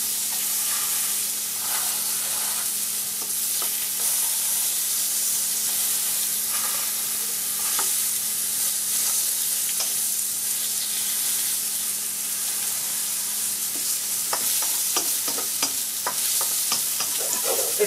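Mushrooms fry in a wok, sizzling and hissing steadily and loudly throughout, with scraping and clicking stir strokes scattered across the whole stretch.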